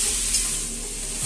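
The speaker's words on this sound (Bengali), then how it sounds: "ধনের গুঁড়োটা দিয়ে আমি আবার নাড়াচাড়া করব।" Radish curry with a spoonful of coriander powder sizzles steadily in a pan while it is stirred, a close, continuous frying hiss with a faint low hum underneath.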